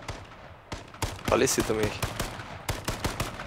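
Rapid gunfire in the battle royale video game H1Z1, a run of sharp shots cracking in irregular bursts, with a player talking during the exchange.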